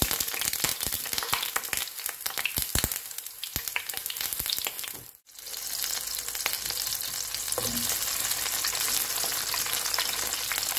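Halved cherry tomatoes dropped into a pan with chili and garlic, crackling and sizzling loudly, with scattered sharp pops early on, a brief lull, then a steady continuous fry.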